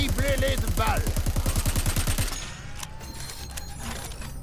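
Video game gunfire in Crackdown 3 comes as a loud, rapid automatic burst of evenly spaced shots for about two seconds, then stops, leaving a few faint scattered impacts and a brief voice.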